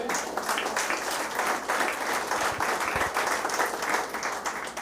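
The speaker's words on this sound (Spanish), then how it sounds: "Den un aplauso al Señor." Church congregation applauding during a Spanish-language sermon, a steady sustained clapping from a large crowd that fills the room at even loudness throughout.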